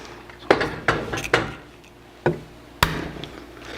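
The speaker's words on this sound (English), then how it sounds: "I'm actually smacking them right against the board" Eggs are cracked flat against a cutting board while making chocolate mousse, five sharp, close knocks spaced unevenly with brief pauses between them, no voices.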